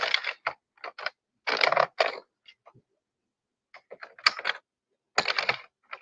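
An Addi circular knitting machine is cranked by hand, giving close, loud bursts of clicking and ratcheting in irregular spurts separated by short pauses, with no talking.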